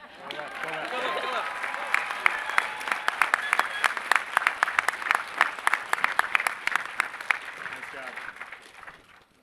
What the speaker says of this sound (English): take a moment to cheer a little extra loud because we were the shortest speech tonight